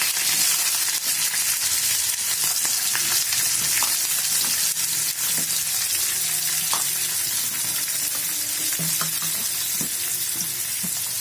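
Medium-cut onions fry in hot oil with a close, continuous sizzle broken by scattered crackles and the scrape of a spoon stirring through the pan.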